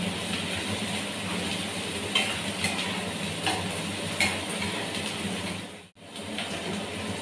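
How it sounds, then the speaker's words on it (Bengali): Onions frying in a pan with ginger and garlic paste added for echor (young jackfruit) curry, giving a steady, even sizzle throughout with occasional stirring ticks and a brief break near the end. "এবার আমি আদা আর রসুন বেটে রেখেছি, এটা দিয়ে দেব। আবার একটু ভালো করে ভেজে নেব একসাথে।"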